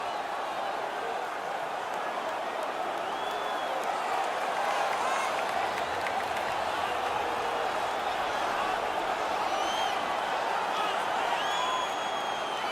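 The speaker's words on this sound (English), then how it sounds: "The crowd is ecstatic." A hockey arena crowd in the NHL 19 video game roars steadily, with dense cheering and scattered whistles holding at an even level throughout, and a commentator speaks faintly underneath.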